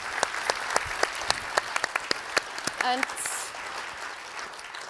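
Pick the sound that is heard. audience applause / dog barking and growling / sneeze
audience applause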